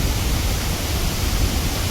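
Tirathgarh waterfall in a roaring, continuous torrent, a steady broadband rush with no breaks and no talk, loud and close.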